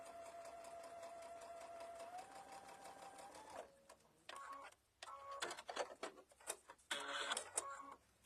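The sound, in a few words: sewing machine stitching a mug bag edge to edge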